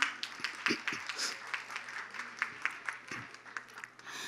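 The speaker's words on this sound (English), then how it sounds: "Can we give applause?" Scattered applause from an audience at a Time Television anniversary celebration, a thin patter of claps spread over several seconds with no voices on top.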